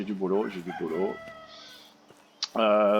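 Chickens in the medieval farming game Medieval Dynasty, a few short clucks and a crow-like call close by, with someone talking over the first half and a loud bird call at the end.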